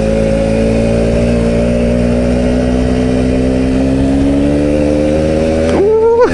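An old motorbike engine runs loud and close on a forest track, its pitch climbing steadily before a sharp rev burst near the end.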